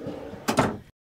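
A deep, wide storage drawer slides shut inside an Avalanche 312 RV, one short, close thump-and-rattle after a quiet room tone, then silence.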